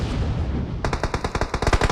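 Rapid automatic fire from an MK rifle in PUBG on the Sanhok map, a fast run of sharp, evenly spaced shots that starts partway through and continues loudly to the end over a steady background rumble.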